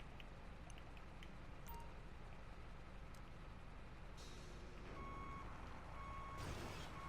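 A Barrage military vehicle reverses in GTA 5 with steady reversing beeps over a rumbling engine, at moderate loudness, and a hiss near the end.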